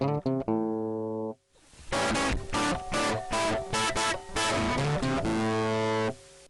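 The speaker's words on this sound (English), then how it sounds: "distortion simply takes the input signal, operates a hard limit, and rescales the output" Musical passage run through a distortion effect with a hard-limited, clipped signal, loud and dense with sustained harmonic tones and rhythmic chords, a brief quiet gap near the start.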